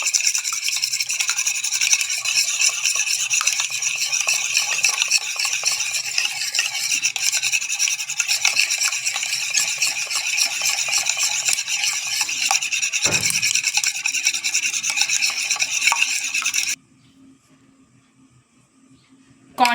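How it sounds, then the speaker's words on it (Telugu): Steady scraping and rasping of a beaten egg mixture being mixed vigorously in a bowl, continuous for most of the span, then stopping abruptly into near silence. "ఇంకా ఈ మిశ్రమాన్ని బాగా కలపాలండి."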